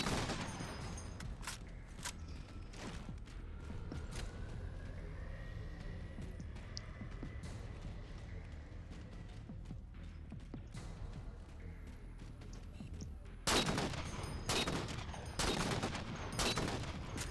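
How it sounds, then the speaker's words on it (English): Rapid gunfire and bursts of weapon shots from Halo 4 Spartan Ops, a sci-fi shooter battle against Covenant enemies, crackle over an ambient game soundscape, with dense volleys near the start and again loudly toward the end. "I've got a sniper rifle, so why not just shoot somebody in the knees?"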